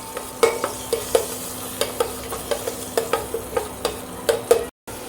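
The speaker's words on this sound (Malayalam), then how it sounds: "നന്നായി നമ്മൾ ഇളക്കാം" Curry with ginger garlic paste is stirred in a frying pan, a spoon scraping and tapping the metal in a regular rhythm of about a dozen strokes over a soft background sizzle, near and unaccompanied by speech.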